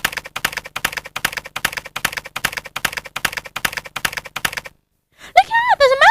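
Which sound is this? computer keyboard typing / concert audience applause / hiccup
computer keyboard typing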